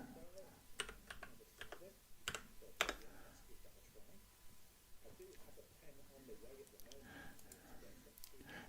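Someone taps on a computer keyboard in scattered bursts of soft clicks, faint and close, under a quiet room hum with some low talk mixed in.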